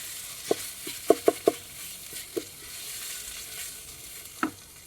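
A spoon stirs curry sizzling in a pan on a Cobb BBQ at a campsite, with several sharp scraping knocks over a steady soft fry.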